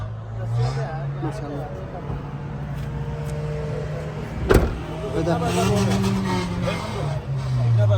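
Power windows on a 2010 Hyundai Accent whir as a motor runs the glass up and down, close by. A brief knock lands midway, and someone talks throughout.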